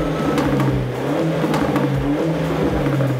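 A Renault Megane RS engine in Race mode revs loud and close, holding a steady droning tone that swells and dips slightly over a few seconds.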